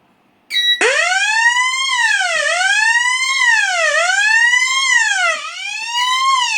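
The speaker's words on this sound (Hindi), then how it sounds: "पैनल एक्टिवेट हो गई है और साउंडर बज रहा है" A loud fire alarm sounder on a conventional fire alarm system wails continuously, its pitch sweeping up and down in a steady repeating pattern, close by with no other sounds.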